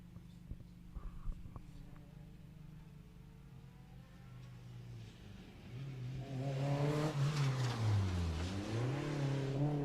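A Renault Clio rally car on a Mull Rally stage, starting faint and distant under low background noise, then rising to a loud, close, high-revving engine note that dips and climbs again as it powers past.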